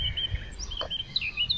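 Small birds sing and chirp in thin, high tweets over steady low rumble of outdoor background noise, fairly faint and continuous.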